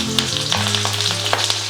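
Fenugreek seeds and mild green chillies sizzle and pop in hot oil in a pan while making a Wayanad-style fish curry, a steady close frying hiss with several sharp crackles scattered throughout and no voices.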